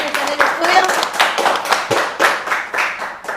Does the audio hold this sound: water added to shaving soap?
no